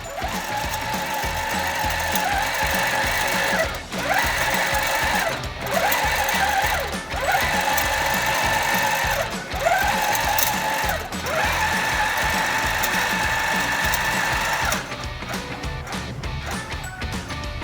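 A Baby Lock Regalia quilting machine with Pro-Stitcher sews a row on its frame, a steady loud mechanical whir with rhythmic surges and brief dips every second or two, running throughout without talk.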